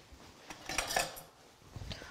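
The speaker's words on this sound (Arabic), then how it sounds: "ونبدا نخلط هذاك البيض السكر لا مايزينا والكريمه وزيت دو سيترون" Hand whisk beating eggs, sugar, cornstarch, cream and lemon oil in a bowl, heard as quick light clinks and scrapes of metal on the bowl, close but quiet, in short bursts with pauses.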